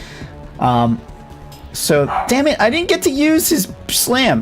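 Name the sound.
dog barking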